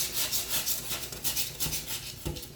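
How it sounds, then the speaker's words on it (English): A bladed window scraper pushed across wet frosted-film glass, rhythmic close rasping strokes repeating in quick succession with a soft scrape near the end. "It's a window scraper. Has a slight blade on it."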